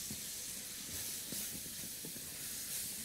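Minced meat dropped onto onions in melted ghee sizzles in a pan, a steady bright hiss with faint crackles throughout.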